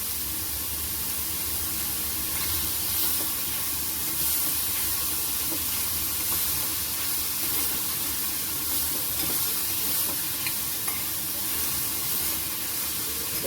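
Momo filling cooking in a pan with Schezwan chutney gives off a steady, soft hiss and sizzle that carries on evenly throughout, with faint occasional clinks and no talking.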